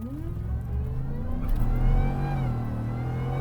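A Whipple-supercharged Ford F-150 pickup accelerating hard, its engine roaring close and loud with the pitch climbing steadily, then holding a high, strained whine; no voices.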